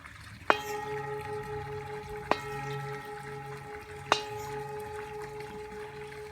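A singing bowl is struck three times at even intervals, each strike leaving a clear, sustained ringing tone that hangs in the air.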